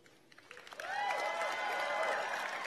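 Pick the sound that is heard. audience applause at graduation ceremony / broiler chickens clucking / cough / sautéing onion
audience applause at graduation ceremony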